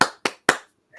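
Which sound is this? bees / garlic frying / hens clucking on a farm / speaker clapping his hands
speaker clapping his hands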